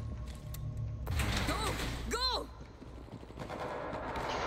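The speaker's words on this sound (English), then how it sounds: "Sounds like M16s." Rapid M16 rifle gunfire in the World War Z zombie shooter game, steady bursts of automatic fire throughout with other game noise mixed in, fairly near and moderately loud.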